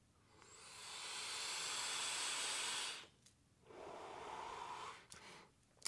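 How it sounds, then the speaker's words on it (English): Two drawn inhales on a VooPoo Argus Pro vape using auto draw, each a soft, close airy hiss lasting a couple of seconds, with faint clicks and breaths between. "Now let's go ahead and vape it without pushing the button."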